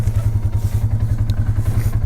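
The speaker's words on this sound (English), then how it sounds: "Fire up, get the 570 dual overhead cam engine" A Polaris Ace 570 dual overhead cam engine runs just after starting, giving a loud, rapid, even low putter close to the microphone with faint clatter on top.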